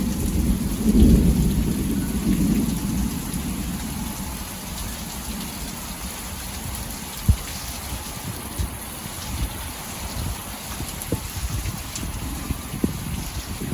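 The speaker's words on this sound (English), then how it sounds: "you probably don't want to hear about this storm, but it's coming down" Heavy rain pouring steadily during a thunderstorm, with a low rumble of thunder early on and occasional sharper drips or knocks over the constant wash.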